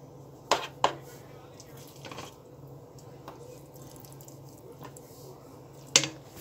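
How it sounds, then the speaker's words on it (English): Cooked rice is spooned into a bowl for a power bowl: a few soft, squishy scoops, with sharp spoon-on-bowl clinks near the start and end, close and quiet, with no talking. "First thing I'm going to do is put in my rice."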